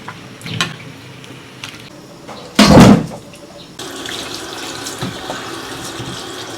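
Tap water runs in a kitchen sink while boiled beef tail is rinsed, with a loud burst of gushing water midway, then a steadier lower stream, among light clatter and handling sounds.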